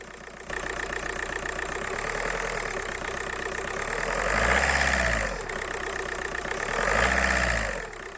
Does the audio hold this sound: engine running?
yes